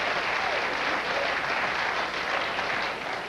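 Studio audience at a late-night talk show applauding loudly and steadily, a dense wash of clapping close by that holds for the whole few seconds and eases slightly at the end.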